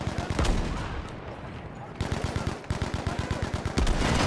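Rapid gunfire from the video game Battlefield V rattles in quick bursts of sharp shots, some close and loud, broken by short pauses across the few seconds.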